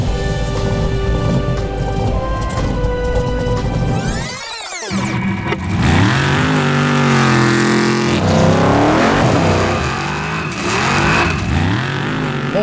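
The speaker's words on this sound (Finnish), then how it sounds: "Moottorin ääni repii tärykalvot." A Formula Offroad race car engine of over 1000 horsepower, roaring loudly and revving hard, with rising and falling pitch sweeps and a brief cut before the engine surges again, dominating the scene.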